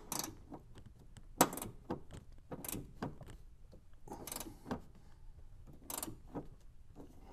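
A socket wrench ratchets in short, quiet clicking strokes as a bolt is tightened on an auxiliary fuse block bracket, with irregular metallic clicks and handling sounds up close.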